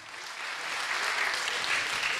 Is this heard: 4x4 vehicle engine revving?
no